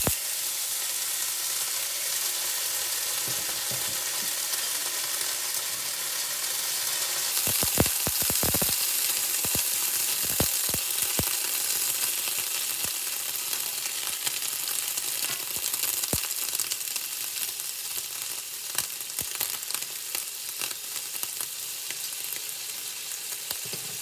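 Very cold green beans sizzle and crackle in about a tablespoon of hot olive oil in a pan, a steady frying hiss broken by sharper pops and some stirring, with no voices.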